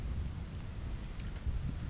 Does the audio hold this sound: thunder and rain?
yes